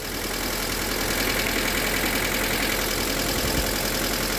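A car engine runs steadily right after a rod bearing replacement on a previously locked-up engine, a loud, even idle rumble that continues unbroken and close by, with no talk over it.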